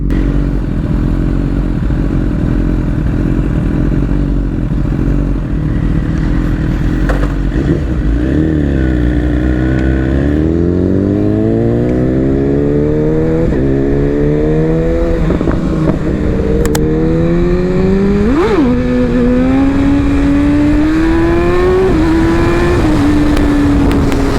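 Kawasaki ZX-10R and BMW S1000RR sport bikes rev hard while pulling wheelies, engine pitch climbing steeply through repeated gear runs with sharp shift drops, loud and close throughout.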